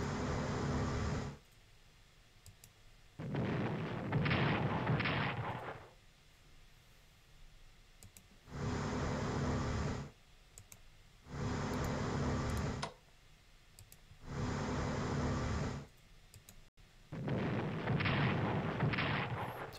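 Battleship bombardment in a WWII strategy video game, heard as six separate bursts of heavy rumbling fire, each lasting about two seconds and split by short near-silent gaps, loud and close with no talk.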